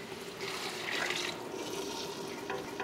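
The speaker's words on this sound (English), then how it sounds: "I'm gonna add now 2 cups of water to finish cooking them in that pot" Two cups of water pour into a cooking pot of sweating vegetables, a soft steady splashing and hiss at low volume lasting a few seconds, with no voices.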